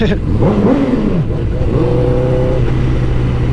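A motorcycle throttle is cracked open on a Memorial Day ride in Columbus, the engine note rising and falling in two quick revs over a steady, loud idle rumble, close to the listener.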